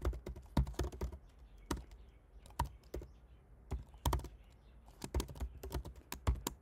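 Irregular clicks and taps of a computer keyboard while code is typed, faint and close, in uneven bursts with brief pauses between keystroke clusters.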